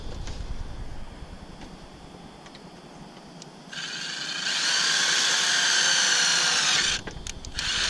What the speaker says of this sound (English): And now I can pre-drill this hole.